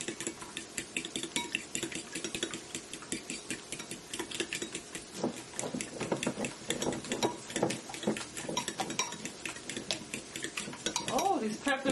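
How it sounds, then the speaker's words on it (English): Fork whisking eggs in a bowl for breakfast egg rolls, a steady run of quick metallic clinks and scrapes against the bowl, close and continuous throughout. "So I'll go ahead in and my fork, just get that nice and scrambled."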